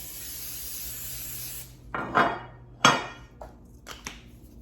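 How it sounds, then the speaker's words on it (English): A few short bursts of butter cooking spray hiss close by into a loaf pan, two longer sprays followed by quick shorter puffs, after a faint steady hum. "I'm going to spray it with some butter cooking spray"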